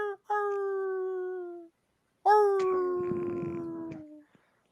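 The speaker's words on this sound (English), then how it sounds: "And that's when you hear the howls." Two long, wavering dog or wolf howls sound as an effect in a Deadlands tabletop game session. The first is steady and clean, and the second swells loud with a rough, noisy texture beneath it before fading out.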